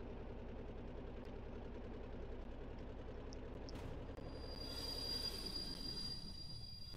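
Wheels of an EMD E9 locomotive squeal steadily while braking in a train game, a continuous high metallic screech over the low rumble of the engine and rolling wheels.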